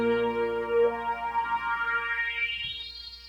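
A synth string sound has its low end filtered away in a rising sweep, producing a wah-like shift as the tone thins out and ends up bright and high.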